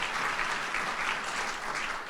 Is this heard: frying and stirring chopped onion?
no